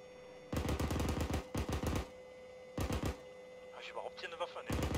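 Game .50 calibre machine gun fire in ArmA 3, several loud rapid bursts separated by short pauses, with faint voices talking near the end.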